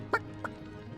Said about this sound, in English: Don't let that rooster escape!